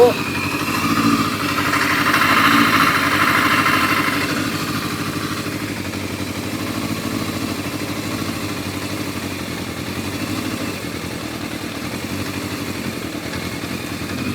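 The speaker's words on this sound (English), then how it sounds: "You hear the engine starting to drop down on the revs." A motorcycle engine idles steadily, its revs easing down after a brief rise, a continuous low mechanical hum with a voice speaking over it.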